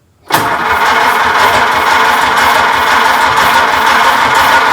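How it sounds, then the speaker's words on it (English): A 1926 Oakland car engine, started with the starter button, abruptly catches and runs steadily, a close, rough mechanical roar holding constant after a sudden start. "push the starter button down for the first time and see if it turns over"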